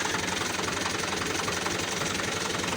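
Ghazi tractor engine running steadily while leveling land in standing water, a continuous knocking diesel rumble that stays loud and even throughout, with no voices.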